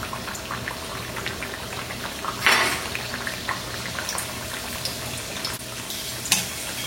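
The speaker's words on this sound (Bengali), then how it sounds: "এটাকে মচমচে করে ভেজে তুলতে হবে।" Chonge snack dough deep frying in hot oil, a steady bubbling crackle running throughout at moderate level, with a brief louder splash of oil near the middle and another short burst toward the end.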